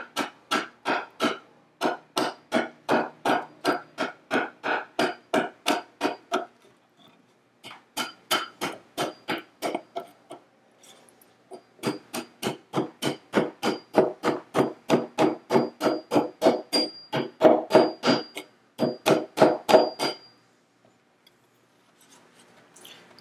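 A hand tool rasps along the edge of a wooden cutting board, beveling and rounding it in long runs of rapid rhythmic strokes with a few short pauses, close and fairly loud with no talking.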